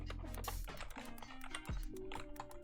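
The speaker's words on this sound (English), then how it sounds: "His body slammed the keyboard." A body slams onto a computer keyboard during a tabletop game session, giving a loud burst of clattering keys. Scattered key clicks and rattles follow.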